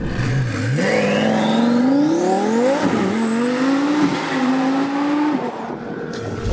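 A 1200 bhp twin-turbo Audi R8 accelerates hard and loud, its engine note climbing steadily through rising revs with brief gear-change dips before easing off near the end.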